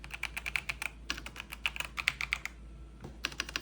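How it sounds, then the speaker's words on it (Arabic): A large computer keyboard with a volume wheel and built-in screen is typed on in bursts of crisp, close clicking keystrokes, briefly pausing before a few final taps, with no voices. "بالنسبة لصوت الكيبورد"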